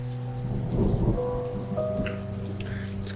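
Steady rain pours outside an apartment block in a spooky game, a continuous close wash of drops with low rumbles and soft piano tones threading underneath, no voices.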